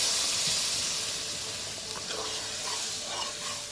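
Meat cooked down in a pan over a clay stove gives a steady, loud sizzle and steam hiss, with the broad frying roar continuing throughout and a few faint clinks near the end.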